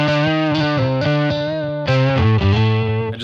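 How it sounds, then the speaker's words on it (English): An electric guitar played through a distortion and chorus effects unit, with short picked phrases and a bent note that slides in pitch, loud and close with no talking. "I just love the way this effect sounds with the bend."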